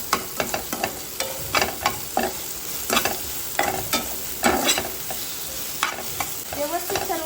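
Okra coated in masala fries in a pan while a spoon stirs and scrapes through it in repeated strokes, with a steady sizzle underneath, close and without talk.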